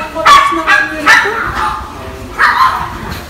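Several sharp barks from pet Chihuahuas come in quick bursts, then a pause and one more loud bark, close by with some background noise.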